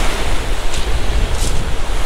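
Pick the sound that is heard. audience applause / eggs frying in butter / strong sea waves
strong sea waves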